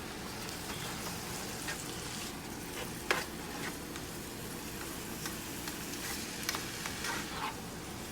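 Cabbage and shrimp egg roll filling fries in a hot pan over high heat, a steady close-up sizzle with occasional scraping and clinking from stirring and one sharper knock.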